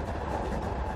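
Train running at speed, a steady dense rumble with rolling mechanical rattle and wheel noise filling the whole second, close and fairly loud with no talk.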